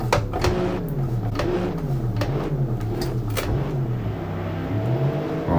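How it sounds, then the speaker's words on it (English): Race car engine in the Assetto Corsa racing game held at high revs on the starting grid, a steady loud buzzing drone that wavers slightly in pitch throughout, with no voices. "Right, lights are on, revs are up, waiting for the light."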